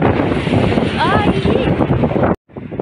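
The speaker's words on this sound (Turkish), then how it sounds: "Çok fazla rüzgar var." Strong wind buffets the microphone in a loud, rough roar while someone talks over it, then the sound cuts out abruptly and resumes faintly.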